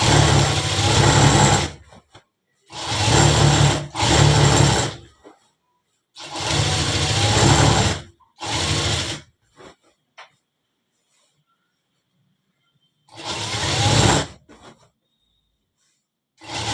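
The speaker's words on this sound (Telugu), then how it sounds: "ఇప్పుడు మళ్ళీ డబుల్ స్టిచ్చింగ్ వేసేది." Sewing machine running double stitching on pants during an alteration, in several separate bursts of steady whirring of a few seconds each, split by silent pauses.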